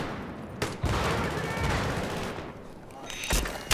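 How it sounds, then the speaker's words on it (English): Video game gunfire with bullets whizzing past, dense and continuous crackling shots with a couple of louder bursts. "bullets are going off"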